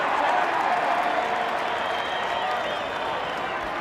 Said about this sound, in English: Brings a roar of approval from the partisan Penrith crowd.